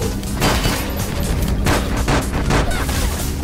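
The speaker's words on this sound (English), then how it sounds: "I'm just gonna start shooting" Dense gunfire in a video game, loud and continuous, with overlapping shots and explosive bursts throughout.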